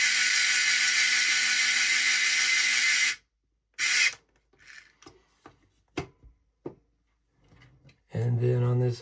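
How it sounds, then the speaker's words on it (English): A 12mm screw is driven into a Gemini skid for a Skeeride 2 build, with a steady power-driver whir for about three seconds, then short clicks and bursts before a final whir. "And then we're going to put a 12mm screw"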